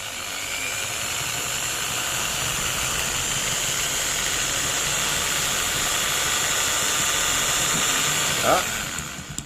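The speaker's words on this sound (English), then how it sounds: "We drilled through it." A drill runs steadily through material at a slow, measured pace, a continuous close mechanical whine and hum that holds for about nine seconds, ending with a brief tonal squeal and a few clicks.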